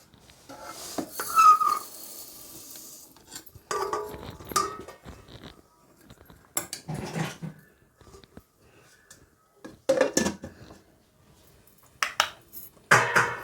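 Cinnamon powder and roasted spices are tipped into a jar in several separate pours, each a short gritty rattle and clink against the container, close by, with quiet gaps between them.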